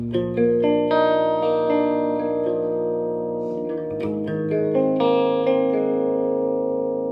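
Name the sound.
electric guitar through Monoprice 15W amp, reverb fully up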